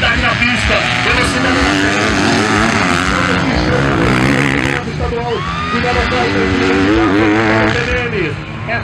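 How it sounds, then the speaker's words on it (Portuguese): Motocross motorcycles racing on a dirt track at a round of the Mato Grosso do Sul state championship in Novo Horizonte do Sul, engines revving and shifting loudly throughout under an excited race commentator. "os três pilotos da frente em pé na moto na reta"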